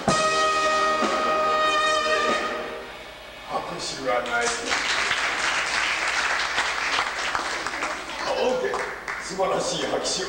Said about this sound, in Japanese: 素晴らしい拍手、ありがとうございました。